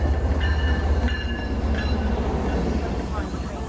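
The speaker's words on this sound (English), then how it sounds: "We started off the summer at Canton Junction last Wednesday, with this Stoughton outbound being the first train." An outbound commuter train on the Stoughton line rolls past Canton Junction near Boston, a steady loud rumble with wheel clatter and squeal that holds throughout.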